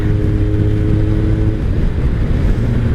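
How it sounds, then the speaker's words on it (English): A 2003 Kawasaki ZR7S motorcycle engine drones loudly and close while riding on a cold day, its low steady tone dipping slightly as the rider downshifts, with wind noise throughout and no voices. "Downshift to fourth."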